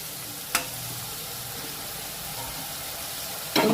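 Onions sizzle in a pan for boondi curry, a steady soft frying hiss broken by two sharp stirring scrapes, one near the start and one at the end.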